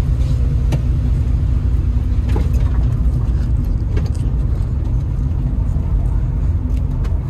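A Honda Civic EK coupe engine misfires while being driven low on fuel, a loud, continuous in-cabin rumble with scattered irregular pops and stumbles breaking through the drone.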